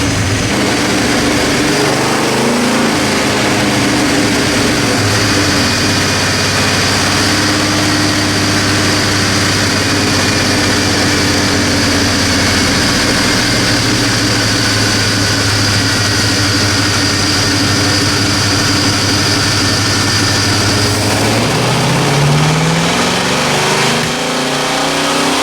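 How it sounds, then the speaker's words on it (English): Big-block Chevy 502 V8 roaring through a sustained full-throttle dyno pull on a DynoJet, loud and continuous with steady rising engine note, then easing off near the end; no talking. "I'm going to make a pull with just that change"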